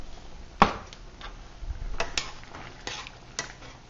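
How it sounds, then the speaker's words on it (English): A spoon stirs cabbage soup with turmeric, pepper and vinegar in a metal pot with clinks and scrapes, one sharp knock followed by softer taps against the metal, close by with no talking. "Give that a stir."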